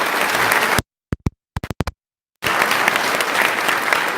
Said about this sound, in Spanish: recibámoslo con fuerte aplauso